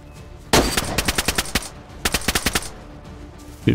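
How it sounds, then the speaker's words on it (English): Automatic gunfire in the DayZ survival game crackles in two rapid bursts of about eight shots each, sharp and fairly close, followed by a single heavier report at the end, with no voices. "Was that you or him shooting?"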